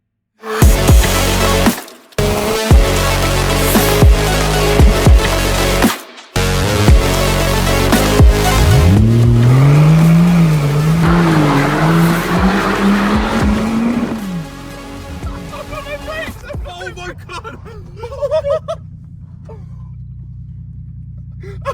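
A Rolls-Royce car drives and skids as its brakes fail, a loud engine roar broken by brief gaps before a long rising tire squeal and screech, then settling into a quieter rumble.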